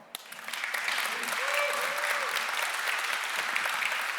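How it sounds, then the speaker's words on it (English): A conference audience applauds after a developer talk on building desktop-style Android apps, the clapping rising quickly and holding steady as a dense wash, with a cheer and faint voices mixed in. "massive round of applause for you two"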